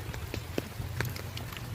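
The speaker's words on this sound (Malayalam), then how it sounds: "എന്നാലും ചെറിയ തുള്ളികൾ ഇങ്ങനെ വീണുകൊണ്ടിരിക്കുകയാണ്." Light rain falls on garden plants in a yard, with sparse, soft, irregular drop taps over a faint, steady background hiss.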